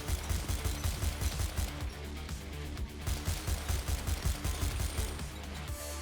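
Rapid, dense bursts of video game explosions and weapon fire pound away continuously, loud and close, with a steady booming rhythm and no speech.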